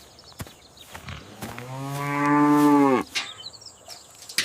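A cow gives a single long, loud, close moo that rises and holds before cutting off, set against quiet farmyard knocks and shuffles.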